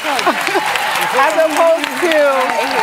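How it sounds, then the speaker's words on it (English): A panel audience claps in a dense, steady patter that runs the whole time beneath a speaking voice. "For once, they're clapping for the right reason."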